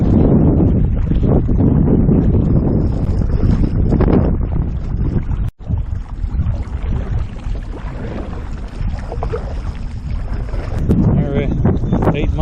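Steady wind roars across an open microphone while paddling a canoe back along Hurricane Creek into a headwind, a dense continuous rush with one brief dropout midway and faint voices underneath.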